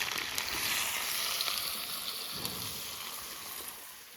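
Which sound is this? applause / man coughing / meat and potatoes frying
meat and potatoes frying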